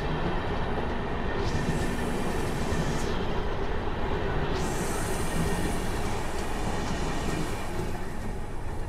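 Train 17219 pulls into Visakhapatnam junction, a steady loud rumble of rolling wagons with continuous broadband rail noise and faint high squeals, no talking.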